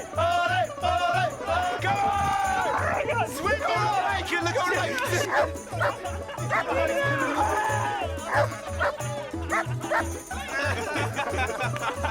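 A dog chasing a man in a 100-metre sprint barks repeatedly in quick, rhythmic yaps while people chatter and call out excitedly over it.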